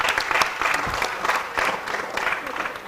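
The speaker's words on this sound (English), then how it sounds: "So can we clap for her," Brief, lively applause from an audience at a math-a-thon live event, several overlapping claps and pulses of clapping over a few seconds, fairly close and loud.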